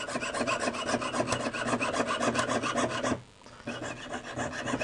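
A hand saw rasps steadily through a thin metal sheet for mokume gane earrings in fast, rhythmic back-and-forth strokes, close by, pausing briefly before the sawing resumes.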